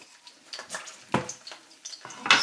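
Garlic fries in oil in a pan for a strawberry and egg stir-fry, with a soft sizzle broken by scattered scrapes and light clinks of a utensil against the pan.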